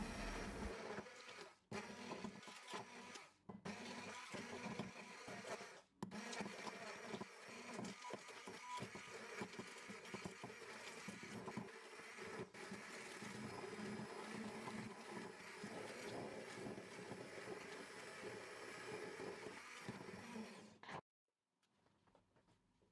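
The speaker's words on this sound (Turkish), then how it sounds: "Blenderla pürüzsüz olana kadar çekelim" A blender runs through sugar-free cake batter until smooth, a steady whirring motor hum broken by a few brief dips and stops before cutting off near the end.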